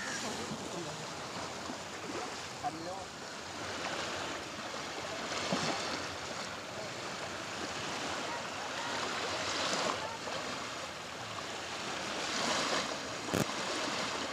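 Sea surf rolls onto Lalganj beach, where fishermen haul nets, making a continuous broad wash of breaking waves with gentle swells in loudness, heard at moderate distance.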